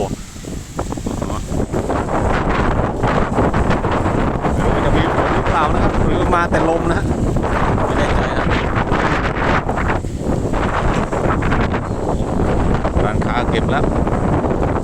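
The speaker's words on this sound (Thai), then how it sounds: "แรงจริงครับลมโพนะต้นโพเสียงดังกระหึ่มเลยนะต้นโพ" Strong storm wind roars steadily, buffeting the microphone and thrashing through the foliage of a bodhi tree, loud and unbroken throughout.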